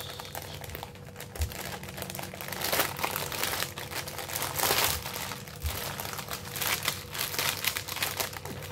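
Paper crinkles, crumples and tears in irregular bursts while embroidery pieces for a pillowcase stitch-along project are unpacked. The rustling is close, continuous and fairly loud, with no talking.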